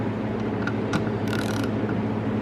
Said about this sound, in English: You can get your 3/8 ratchet on there.